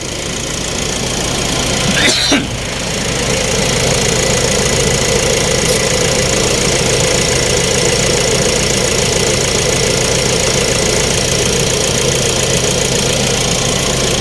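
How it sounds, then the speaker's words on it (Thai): A Nissan Navara NP300 Black Edition pickup engine idles smoothly and steadily close by, a constant low hum with a brief knock or clunk early on. "เครื่องยนต์นิ่มเดินเบามากๆ"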